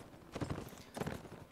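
Horse hooves clip-clop on the battlefield of the Napoleonic Wars game, two quick bursts of several hoofbeats each, moderately close, with no talk over them.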